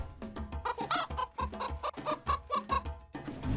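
Chickens cluck in a rapid, busy series of short calls at close range, loud and bunched together, with no talk over them.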